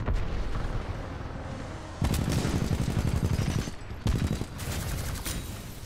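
Rapid automatic gunfire from a heavy gun in the mech shooter Titanfall 2, loud, dense bursts of fast rattling shots firing almost continuously with short breaks between volleys.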